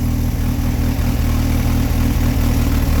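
A 1967-era motor with a Holley 2110 carburetor idles loud and close, its steady low, lumpy rumble holding an even rhythm throughout with no talk over it.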